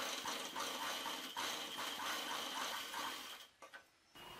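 A sewing machine runs steadily, stitching a fabric strip onto a ladies' kameez, its fast whirring rattle close and continuous before halting near the end with a couple of faint clicks.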